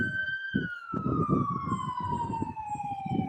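A fire department truck's siren at a homecoming parade sounds loud and close in a long, slowly falling wail. Rumbling engine and crowd noise pulse underneath.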